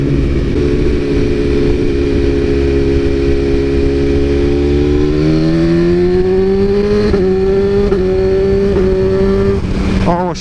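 A remapped BMW S1000RR motorcycle engine pulls hard under acceleration, its loud rising howl climbing steadily through the revs with brief dips at gear changes, heard close while riding.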